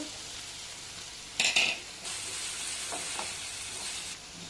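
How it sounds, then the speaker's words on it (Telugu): Garlic paste, capsicum and carrot sizzle in a pan with salt, chilli powder and turmeric for a Spanish omelette, a steady close frying hiss interrupted by a brief burst of louder clattering stirring and a few light taps. "ఇలా ఫ్రై చేసుకోవాలండి"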